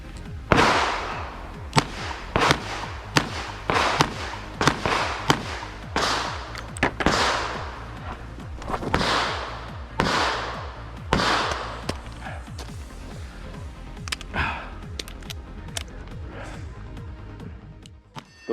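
Revolver gunshots at an IDPA shooting match stage ring out as a long run of sharp, loud cracks, fired in irregular bursts with short gaps between them, each shot echoing briefly.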